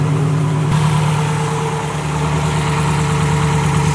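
A big-turbo Subaru STi engine with aftermarket headers idling steadily up close, a loud continuous rumble that shifts slightly in pitch early on and then holds an even, throbbing note.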